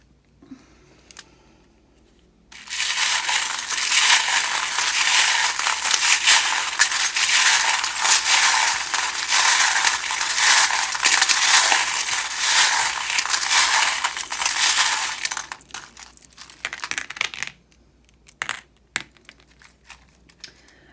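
Tarot cards and charms are shuffled in a long, dense, crisp riffling rush lasting several seconds, then a few scattered taps and rustles, with no talking.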